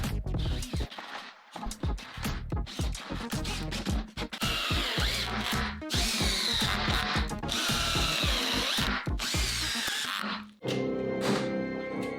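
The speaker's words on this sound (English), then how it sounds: "I can just send all the screws in there" A power drill drives screws into a wooden worktable top, with repeated whirring bursts that rise and stop and loud thunks between runs, all close and with no one talking.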